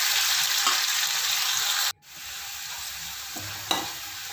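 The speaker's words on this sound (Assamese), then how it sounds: "অলপ ভজা যাব লাগিব, নহ'লে কেঁচা কেঁচা গোন্ধাব।" A spice mixture stir-frying in a pan for an Assamese fish and capsicum dish: a steady, close, hissing sizzle broken by a brief silent gap, then resuming with occasional stirring scrapes.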